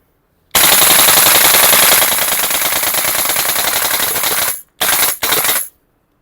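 An airsoft gun fires on full auto in a loud, close, continuous rattling burst of about four seconds, then two short bursts before it stops.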